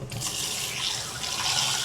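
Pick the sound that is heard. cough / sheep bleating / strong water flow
strong water flow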